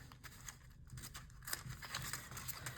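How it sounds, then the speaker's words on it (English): Scissors trimming paper from junk mail envelopes, a quiet series of crisp snips and crinkles close to the microphone, irregular in rhythm, with no talk. "Let's trim, oh my gosh, there's one of those scissors. Let's trim that."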